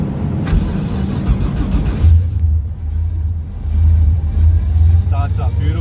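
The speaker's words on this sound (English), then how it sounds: "Starts up beautiful, unlike the last ECU. Idle control doing its thing." Stock VK Commodore engine cranking and catching on a dyno, settling into a steady, rumbling idle close by with slight surges, a voice talking over the first part.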